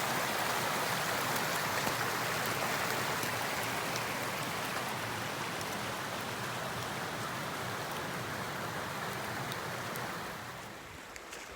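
Water of a small stream flowing across a partially flooded hiking trail near Little Rock Pond in Vermont, a steady broadband rush that stays loud and even throughout, easing slightly at the very end.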